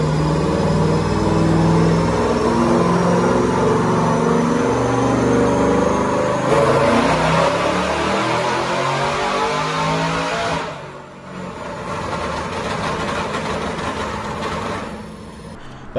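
A supercharged, cammed Chevrolet Camaro with a Whipple supercharger on a 375 pulley making 7 pounds of boost roars on a dyno, its engine loud and close, rising in pitch through a long pull, then dropping briefly before a second sustained run.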